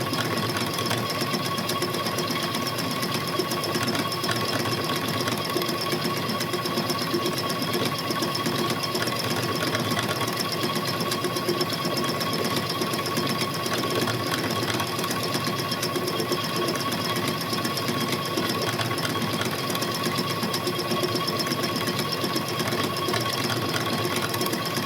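Sewing machine stitching apron fabric, running steadily and continuously at an even pace for the whole stretch, close and alone with no talk.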